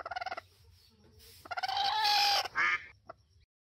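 Rooster and other fowl clucking in a children's program, short rapid clucks followed by a louder drawn-out squawk and a final brief call, close and clear with no talk.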